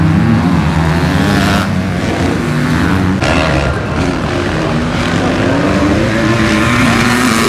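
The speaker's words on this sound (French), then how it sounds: "pour Julien Jadot qui roule là avec la moto qui lui a servi au Dakar" A continuous loud engine roar fills the whole stretch, as from a Dakar rally motorcycle ridden on the Saint-Brieuc circuit. It holds steady with slight pitch shifts and no clear pass-by peak.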